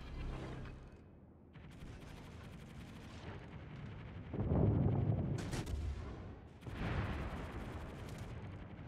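Anti-aircraft guns blazing away at aircraft in World of Warships, a dense stream of rumbling, crackling gunfire bursts with booming low thuds swelling and fading across the clip.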